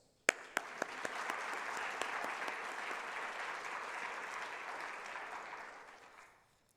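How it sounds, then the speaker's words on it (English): An audience breaks into applause after a few sharp early claps, swelling into dense, steady clapping that holds for several seconds before fading out. "I would like all of us to give the applause for Joe and"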